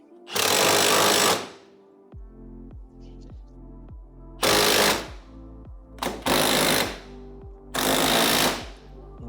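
An impact wrench hammers an ARP wheel stud into a Camaro rear hub in four loud bursts of rattling, separated by quieter pauses filled with a low, steady engine-like idle.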